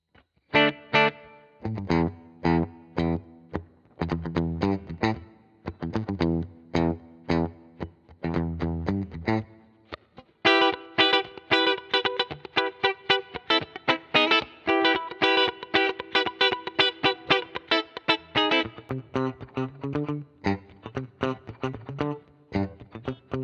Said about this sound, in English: my normal clean sound, but quite dry